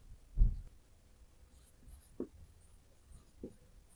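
A pen scratches and taps faintly while a Class 10 maths solution on real numbers is written out, with a few soft strokes and pauses in a quiet room.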